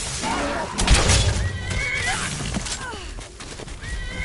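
A horse in a video game whinnies after being struck by a shot, a rising harmonic neigh over busy game noise, with a low thud and clatter and a person talking briefly nearby.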